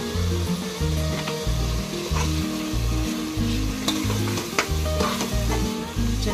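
Turmeric powder frying in a pan, with a loud steady sizzle and a regular pulsing scrape of stirring throughout and no talk.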